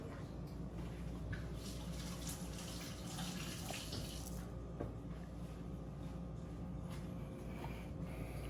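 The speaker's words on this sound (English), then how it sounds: "I'll wash my hands right quick." Steady, faint stream of tap water running into a kitchen sink during hand washing while cooking creamy garlic chicken, a continuous hiss with small splashes and no talk.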